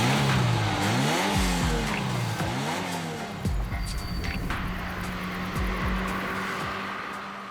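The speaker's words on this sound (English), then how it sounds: "8 cylinders, 32 valves, 4-barrel carburetors," A Ferrari V8 sports car engine with 32 valves and four-barrel carburetors revs up and down repeatedly, high-pitched roaring sweeps with shifts, close and loud, no talking.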